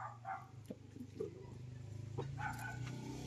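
A dog barks a few times, short yips and woofs at moderate distance, over a steady low hum and faint background noise.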